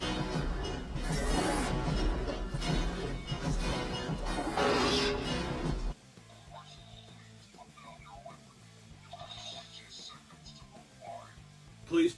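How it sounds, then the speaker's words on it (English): Electronic walking sound effect from a HIYA Toys ED-209 figure from RoboCop 1987, a loud, dense mechanical stomping and whirring for about six seconds, then quieter clicks and a faint hum. "There's that walking sound effect."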